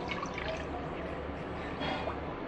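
Water pours into a bowl of curd for kammangkoozh in a steady trickle, close and moderately quiet, with light splashing throughout.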